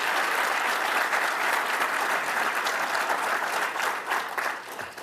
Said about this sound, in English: A big round of applause for Josie.